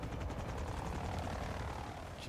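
Aircraft engine from Call of Duty Modern Warfare 3 multiplayer, a steady broadband roar with a rotor-like hum that holds at constant loudness throughout, close and continuous with no talk.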